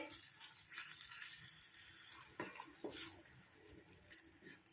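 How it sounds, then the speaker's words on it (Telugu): Hot water poured into a pan of potato curry for poori, a faint, steady splashing pour with a few brighter splashes and drips, fairly quiet and with no talking. "ఇప్పుడు హాట్ వాటర్ వేసుకోవాలి"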